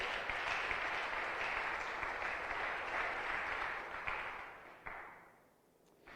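A church congregation gives loud, sustained applause in a roomy space, a dense wash of many hands that holds steady and then fades out near the end.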